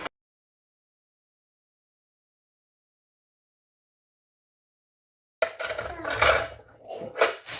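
Dishes and spoons being washed: after a long stretch of silence, ceramic and metal clatter rises near the end in a few close, uneven knocks and clinks of cutlery against plates.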